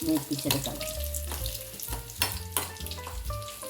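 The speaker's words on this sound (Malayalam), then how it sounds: "ചെറിയ ഉള്ളി കടുക് വറുത്തിട്ട് അതിനകത്തോട്ട് ഇട്ടൊന്ന് ഇളക്കി" Shallots and mustard seeds frying in a pan for a Kerala thoran, a busy crackle and sizzle broken by sharp pops and spits, with clinks and a stir against the pan, close and fairly loud.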